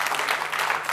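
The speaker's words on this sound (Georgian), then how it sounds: "აპლოდისმენტები." Brief applause from a studio audience at a Georgian comedy game show, a short dense burst of clapping with no talk over it.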